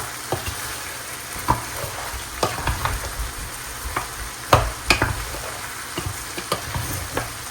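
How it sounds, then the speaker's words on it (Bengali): Meat sizzles in a pan alongside other cooking, with a steady frying hiss under a series of sharp clicks and scrapes from stirring, fairly close and moderately loud, no voices. "এপাশে মাংসটাও বসাই দিলাম, কারণ একসাথে রান্না হয়ে যাক।"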